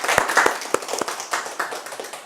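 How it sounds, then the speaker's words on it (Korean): A church congregation at a Hawaii retreat clapping in thanks to God, a short burst of scattered, uneven claps close by and moderately loud. "우리 하나님께 감사의 박수를 돌리고 마치겠습니다."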